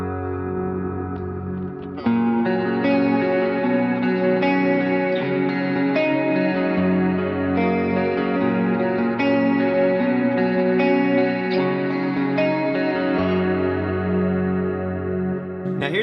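An electric guitar runs through chorus and reverb on a Line 6 HX Stomp, letting full chords ring with a lush, washy shimmer and smooth changes.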